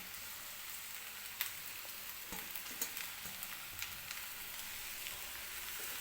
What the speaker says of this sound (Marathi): तर कांद्याची पात मी कढईमध्ये टाकून घेतलेली आहे.